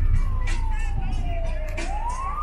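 An ambulance siren wails, sweeping slowly down then starting to rise again, heard over steady traffic rumble at moderate distance, in rain.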